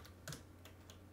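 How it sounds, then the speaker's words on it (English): Quick, light keystrokes on a computer keyboard while entering a Animal Crossing queue list, a handful of soft, close clicks at an uneven pace over a steady low hum. "I'm literally typing up the Animal Crossing queue thing right now"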